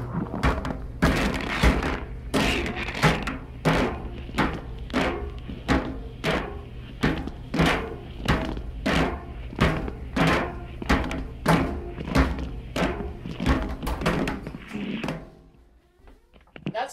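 A soaking-wet phone tumbling inside a running clothes dryer, knocking against the drum in a rapid, regular series of loud thuds over a steady machine hum, then slowing to a stop near the end.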